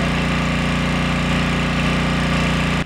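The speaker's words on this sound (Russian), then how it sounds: "Сначала в ход идет помпа с водой и пожарные рукава." Firefighters' engine-driven water pump runs steadily at a fire scene, a loud continuous mechanical drone with a regular low throb, cutting off abruptly at the end.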